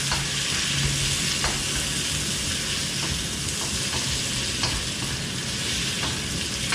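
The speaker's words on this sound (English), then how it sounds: "the beef's going to get sealed in the hot pan" Beef and garlic stir-frying in a hot pan, a loud, continuous close-up sizzle with occasional scraping stirs and clatters, no voices.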